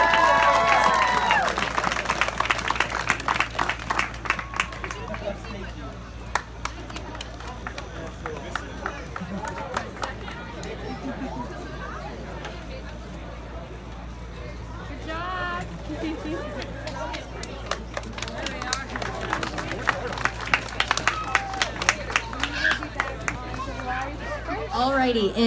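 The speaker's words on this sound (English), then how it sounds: "Let's give them another huge round of applause," A crowd claps and cheers at a comic con cosplay awards ceremony, the applause swelling in bursts over steady crowd babble, with people talking and calling out nearby.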